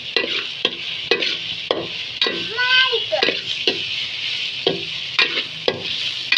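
Food frying in a home kitchen pan while being stirred, with repeated sharp spatula scrapes and knocks over a steady sizzle and a brief squeaky scrape midway.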